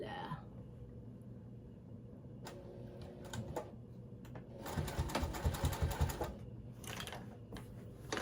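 Sewing machine stitching a baby quilt with a shortened stitch length, running in uneven bursts of rapid mechanical ticking that swell louder mid-clip before easing, close by with faint background noise.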